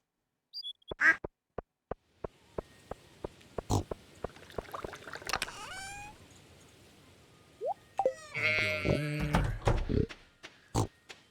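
Ducks in the game Stardew Valley give a flurry of nasal quacks that builds to a loud, dense burst, mixed with clicks and short game sound effects.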